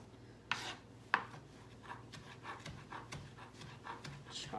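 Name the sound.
chopping parsley with a knife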